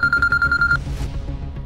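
A telephone rings in a tense Tamil TV serial scene, a steady repeating electronic trill sounding loud and close for most of a second before cutting off, leaving low room noise.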